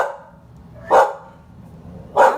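Upset dogs bark indoors, two sharp single barks about a second apart, loud and close over a low steady background hum.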